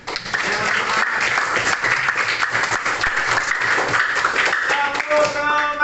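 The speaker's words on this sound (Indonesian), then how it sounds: "Beri tepuk tangan." Classroom of students applauding together, a burst of brisk, fairly loud clapping lasting several seconds with a slightly uneven rhythm, close and with no talk over it.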